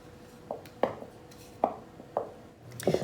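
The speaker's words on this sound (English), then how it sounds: "you can just press out some of the lumps with your spoon against the edge of the bowl" A spoon presses and knocks bread dough of white and whole wheat flour against the edge of a bowl, a series of five or six separate dull taps at irregular intervals, close and fairly quiet, no talking.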